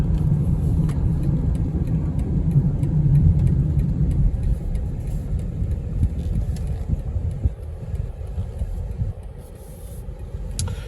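A 2020 BMW X3 engine pulls hard under acceleration, a steady mid-low rumble and whir heard from inside the cabin that eases off toward the end, with no talking.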